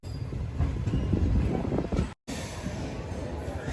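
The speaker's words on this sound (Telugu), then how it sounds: "తణుకు ఫస్ట్ ప్లాట్ఫామ్ నుంచి మన ట్రైన్ అయితే మూవ్ అయిపోతుంది" A MEMU train pulling away from the first platform at Tanuku station gives a steady rumble and rattle of railcars, loud and continuous, with a brief cut partway through.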